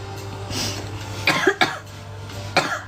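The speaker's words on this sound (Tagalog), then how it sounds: "Umubo." Three sharp coughs, the first two in quick succession and a third after a pause, close to the microphone over a low background hum.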